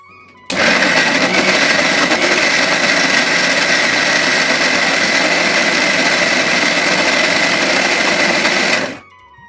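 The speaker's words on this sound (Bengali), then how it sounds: "এর মধ্যে কোনো জল অ্যাড না করে আমি একবার মিক্সার গ্রাইন্ডারে কিন্তু ঘুরিয়ে নেব" A mixer grinder whirs loudly as it blends soaked semolina into a soft paste with no water added, starting abruptly, holding a steady high-pitched motor whine for about eight seconds, then cutting off.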